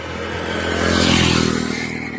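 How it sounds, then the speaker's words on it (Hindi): A motorcycle passes close by, its droning engine hum building to a loud peak around the middle and then easing off slightly, heard alone without any talking. "अभी मैं एक मोटरसाइकिल क्रॉस कर रहा था तो उनकी आवाज़ आ रही थी।"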